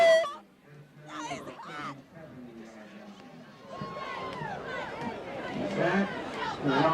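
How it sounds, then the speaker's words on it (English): A high school football crowd in the stands cheers and chatters under a commentator's talk, a steady babble of voices that swells louder in the second half. "And the crowd is fired up, as you can hear."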